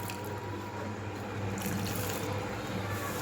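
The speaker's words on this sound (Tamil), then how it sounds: "தண்ணியை விட்டு கொஞ்சம் மிக்ஸ் பண்ணி விட்டுக்கோங்க." Water poured into a pan of mutton chukka, a steady close pouring and splashing that lasts throughout with no talk.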